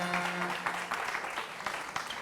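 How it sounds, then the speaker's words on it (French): Applause from an audience at a live rap battle show, a steady dense patter of clapping throughout with a faint tone early on. "On va les applaudir encore très fort, s'il vous plaît."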